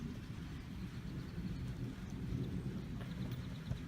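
A thunderstorm heard from under a tin roof, with a dense, constant rumbling roar of rain and distant thunder and no speech.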